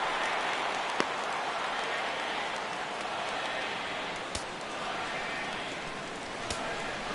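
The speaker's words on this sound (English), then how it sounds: "Crowd gets up for the 3-2." Baseball stadium crowd in a PS4 baseball game, a steady broad murmur and rumble of fans with a few sharp clicks or thuds, continuous and moderately loud.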